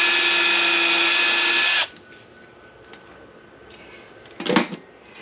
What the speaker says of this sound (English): just going to drill holes